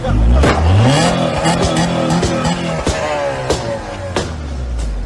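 A car engine revs hard and roars close by during a police stop, rising in pitch and holding steady over a few seconds, with sharp knocks and shouted voices breaking in.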